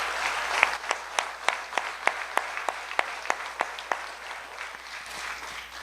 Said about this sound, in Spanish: yo les pido un aplauso para mis compañeros.